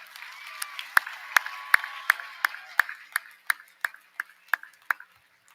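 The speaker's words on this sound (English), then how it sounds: "So how about a big round of applause for her?" Applause for Dr. Gill at a university commencement ceremony: sharp, evenly spaced claps ring out over a softer wash of crowd clapping, then fade to quiet at the end.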